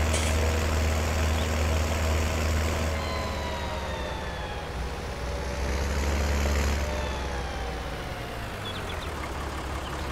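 A tractor engine in the Farming Simulator 19 video game drones steadily and loudly with a low idling rumble and faint whining overtones, alone and unbroken throughout.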